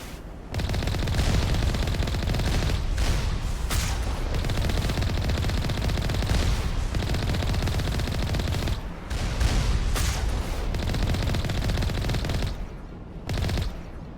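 Automated turrets open fire in the Mass Effect video game, loud sustained bursts of rapid gunfire hammering almost continuously with only brief pauses between volleys.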